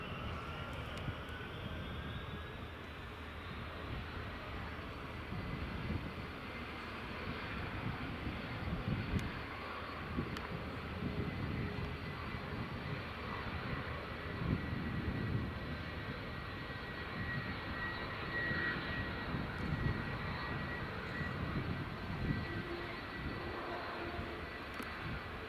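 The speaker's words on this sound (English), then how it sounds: "United 757's just pushed back." A United Boeing 757 jet at Edinburgh Airport gives a steady, moderately distant engine roar with a rising whine, continuous and unbroken throughout without talk.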